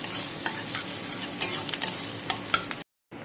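Chopped and whole garlic cloves frying in oil, a steady crackling sizzle broken by sharp stirring clatters of a spatula against the pan, ending in a brief silence.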